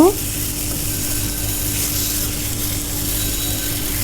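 Taro stolons (kochur loti) frying with a teaspoon of turmeric powder stirred in, giving a steady close sizzle with light stirring scrapes throughout and a brief knock at the start.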